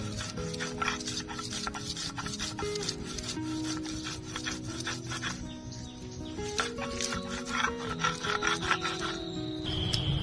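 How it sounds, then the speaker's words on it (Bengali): Raw mango, green chili and coriander being ground by hand on a grinding stone, heard as a continuous rhythmic rasping and rubbing of stone on stone, fairly quiet and close, with faint background sounds. "আম, কাঁচা লঙ্কা, ধনেপাতা ভালো করে বেটে নিয়েছি"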